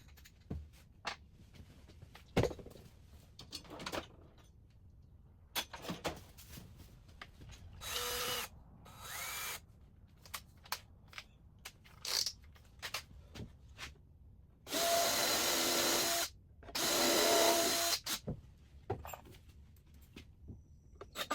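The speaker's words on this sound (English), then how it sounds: "Pre-drill." A power drill whirs in several short bursts and two longer runs into wood, separated by quiet handling clicks and knocks.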